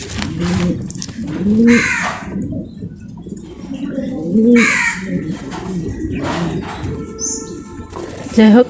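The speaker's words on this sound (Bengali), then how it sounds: "এখন আমার সবগুলো কবুতরকে নামানো হয়ে গেছে" Pigeons let out of their cage onto a balcony coo and call repeatedly at close range, with bursts of wing flapping, while a voice speaks faintly at points.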